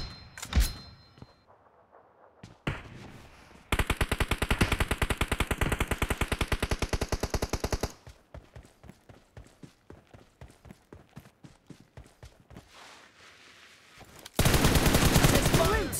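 Gunfire in the PUBG video game on The Ruins map: sharp single shots, then long rapid automatic bursts, scattered pops and another intense automatic burst near the end, loud and close.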